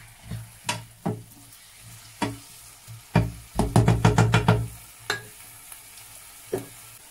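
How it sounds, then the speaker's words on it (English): A cassava mixture frying in a pan is stirred with a utensil, giving a close series of knocks and scrapes, a quick burst in the middle, over a soft sizzle with no talking. "Give it a quick stir. Mix everything together."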